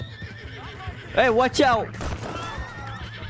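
Horses in the video game Red Dead Redemption 2 give a loud, close whinny with a second neigh right after it, over galloping hoofbeats. A voice shouts over them.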